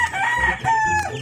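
Close hungry chicks peep in short, high-pitched bursts, a few overlapping cries in quick succession with no talking.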